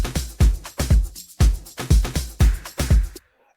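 Snare drum sample from an Afro tech house beat, struck seven times in a steady repeating pattern, each hit punchy with a low thump and bright noisy snap, loud and alone before a sudden stop.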